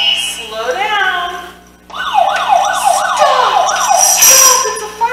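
A fire engine's loud wailing siren sweeps up and down repeatedly, then shifts to a faster yelping pattern, close by with engine rumble underneath.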